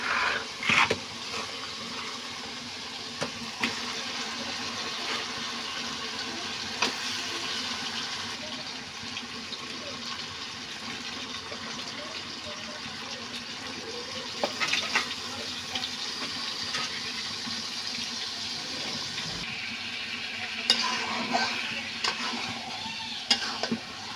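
Meat sautéed in spiced masala in a pan, cooking through while stirred continuously, a steady loud sizzle and bubbling hiss with frequent scraping and stirring knocks, close up and without talking.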